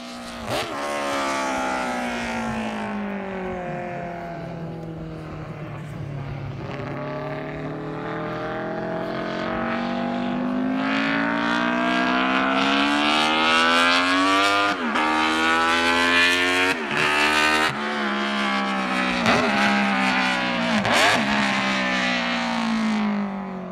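A Honda 500cc four-stroke, four-cylinder, high-compression racing engine revs loudly and continuously, its pitch climbing and falling through repeated throttle blips with a rich harmonic wail, heard close and alone without talk.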